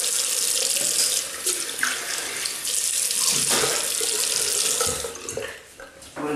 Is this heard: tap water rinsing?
yes